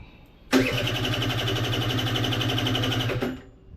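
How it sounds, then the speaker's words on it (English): A scooter engine cranks over steadily on jump-box power, a loud, close, rhythmic churning that runs for about three seconds without catching, then cuts off. "So let's try to crank it."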